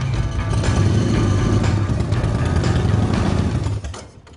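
A big classic motorcycle engine runs loud and close with a steady rough idle while the clutch is pressed, then fades toward the end.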